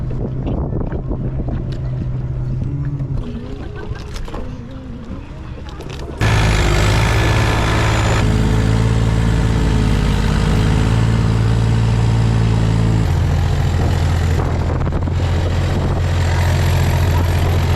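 A boat motor drones loudly beneath strong wind buffeting, with a sharp jump in engine roar partway through and voices faint in the mix. A small boat overloaded with about twelve people, off a beach in Vietnam.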